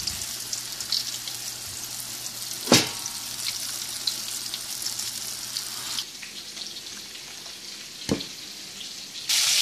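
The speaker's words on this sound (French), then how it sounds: "On va aller vers l'huile pour faire frire ça." Spiced fish frying in a little oil in a pan gives a steady, close sizzle with crackling spits, a couple of sharp knocks from the utensil, and a brighter hiss at the end as food is moved.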